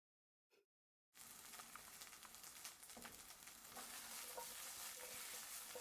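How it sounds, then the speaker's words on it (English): Chopped vegetables and carrots sizzling and being stirred in a hot pan, a steady close crackling fry that starts abruptly after a short faint noise and grows slightly louder, with no talking. "All those veggies softening, absorbing the rich, savory juices."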